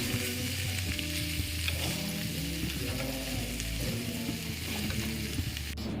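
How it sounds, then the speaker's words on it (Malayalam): Dried red chillies frying in hot oil make a loud, dense, continuous sizzle, heard close up and steady from start to finish, with faint stirring and no speech. "മുളക് പൊടിയില്ലെങ്കിൽ അപ്പാടുള്ള ഉണക്കമുളക് എടുത്താലും മതി. അതൊന്ന് നല്ലോണം ആദ്യം എണ്ണയിൽ വാട്ടിയെടുക്കണം."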